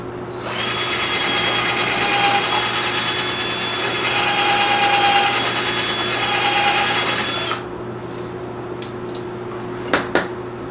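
A power drill whines steadily for several seconds, then stops, followed by a few sharp knocks as the drill bit is tapped against a hard surface to knock sawdust out of it during a desk build.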